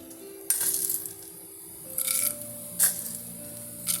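Mustard seeds and cumin tipped into a pan for tempering, heard as a few brief bursts of hissing crackle and small rattling clinks, separated by quieter moments with a faint steady hum.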